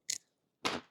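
A crunchy freeze-dried cheese slice bitten twice up close: a short sharp crack, a brief silence, then a longer, louder crunch that fades out.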